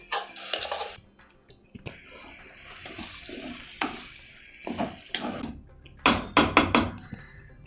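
Ground green pea paste for kachori fries in a pan, crackling sizzles and splattering bursts mixed with stirring scrapes, louder clusters of pops at the start and end.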